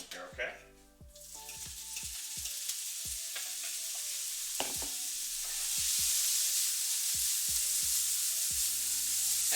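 Already-cooked shrimp are tossed into a hot frying pan with browning ingredients: a few sharp utensil clinks, then a sizzle that builds and holds loud, with scattered scraping taps over it.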